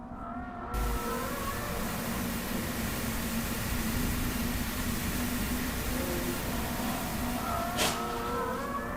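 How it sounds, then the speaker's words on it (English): A car engine drones steadily throughout, sustained and fairly close, with a brief sharp noise near the end. "Car."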